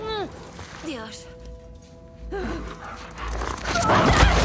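A dog in The Last of Us Part II gives a few sharp barks and yelps close by, amid game noise, with someone talking over the action.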